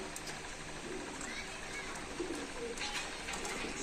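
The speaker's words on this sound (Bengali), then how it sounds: "অনেক বড় সাইজের কবুতর" Pigeons coo softly at a busy pigeon market, their low calls repeating under steady crowd noise and hubbub, moderately distant and fairly faint.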